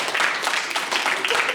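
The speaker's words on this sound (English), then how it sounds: "Give him a big round of applause, everybody." Audience applause at a live hypnosis show, a steady wash of many hands clapping for a short burst without voices over it.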